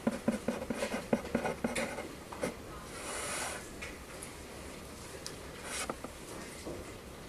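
Pencil drawing lines on paper for a one-point interior perspective sketch, a few short scratchy strokes followed by longer smooth drags, close and fairly quiet with no talking.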